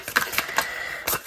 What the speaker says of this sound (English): This bracelet is very noisy, but it's nice.